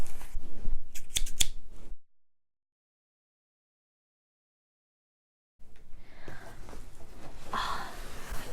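Scissors cutting into an Away luggage cardboard box: a few quick snipping cuts, a long silent gap, then rustling and handling of packaging at close range.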